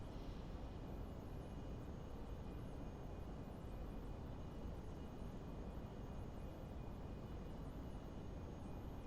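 Steady, continuous engine roar of a Learjet 25 jet climbing after takeoff in the Prepar3D v4.5 flight simulator, a constant broadband drone throughout with no talk.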